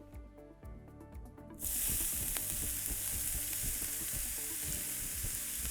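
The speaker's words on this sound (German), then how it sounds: "Als nächstes wird das Gemüse, das ich jetzt klein gehackselt habe, noch angebraten." Chopped vegetables hit hot olive oil and burst into a loud, steady sizzle that keeps going close up, while utensils clatter and stir in the pan.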